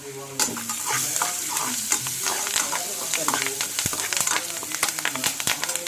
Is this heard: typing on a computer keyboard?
no